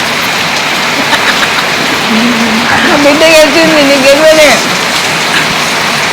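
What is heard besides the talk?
heavy rain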